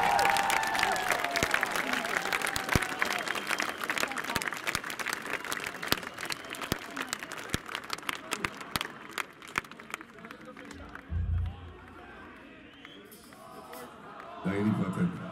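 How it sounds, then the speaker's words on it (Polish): Concert crowd in Wrocław applauding and cheering loudly in dense, sustained clapping with shouts, fading toward the end as a few low thumps and stage noise come through. "Duże brawa na Roberta!"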